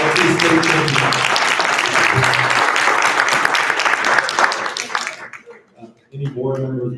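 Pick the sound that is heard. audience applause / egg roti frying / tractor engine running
audience applause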